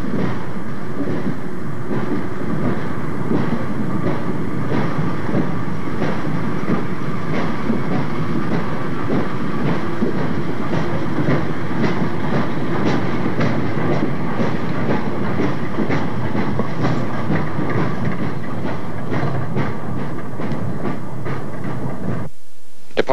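Commuter train on the Erie line near Sparkill, New York, rolling steadily with a loud, continuous rumble and rhythmic clickety-clack of wheels over rail joints, heard close up throughout.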